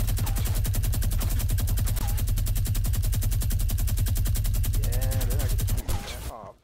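Rapid automatic gunfire from a squad-based shooter game, a dense rattling stream of shots that runs almost unbroken for about six seconds before cutting off, with brief voice sounds mixed underneath.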